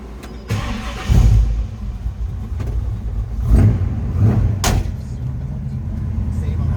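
A 1969 Chevrolet C10 engine cranks and catches, with a few loud bursts as it fires, then settles into a steady, close, rumbling run with uneven throttle blips throughout.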